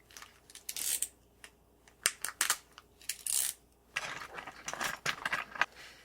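Card packs being cut open with scissors: a series of crisp, close snips and crinkling plastic tears in irregular bursts against a quiet room.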